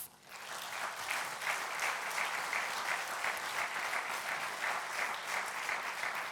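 Steady, sustained applause from an audience at the Krka table tennis club's 70th anniversary celebration, honouring the club's players, a full crowd clapping evenly for over six seconds with no talk.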